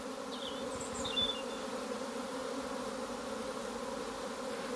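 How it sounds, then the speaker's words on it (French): A honeybee swarm pours out of a hive at a spring apiary, a steady dense buzzing hum that fills the whole stretch at even loudness, close and continuous, with a brief swell partway through. "Donc un essaimage en cours, donc là on attend un peu que tout le monde s'envole"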